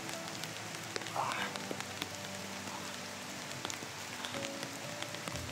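Steady rain patters down continuously on a surface, a dense even hiss with occasional louder drops, no clear voices.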